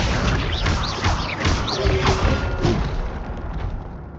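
Repeated Accio summoning-spell casts in the Hogwarts Legacy video game, with booming, crashing magical impacts and whooshes landing about every half second over a dense, loud game soundscape.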